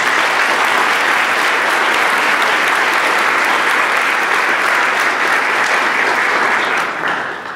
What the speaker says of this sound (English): Let's give him a big old round of applause.